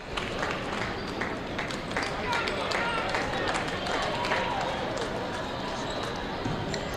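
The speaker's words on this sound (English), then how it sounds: "They've come alive over here to our right." Crowd noise at a girls' high school basketball game in a gym: steady cheering and clapping from the home Logan side, continuous and moderately loud, with sneaker squeaks and court sounds mixed in.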